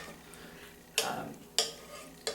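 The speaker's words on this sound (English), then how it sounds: "I'm also going to put in about 2 ounces of sliced bratwurst or smoked sausage" Sliced bratwurst or smoked sausage drops into a soup pot in three quick, faint splashing thumps spaced about half a second apart over a quiet background.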